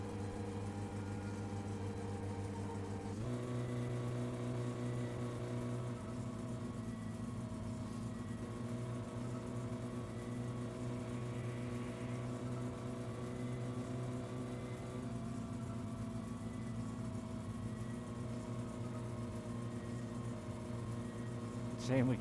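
Loud, raw engine drone from an unmuffled car in the My Summer Car video game, with freshly fitted new parts, held at a steady rumble throughout with a slight shift in pitch early on; no talking.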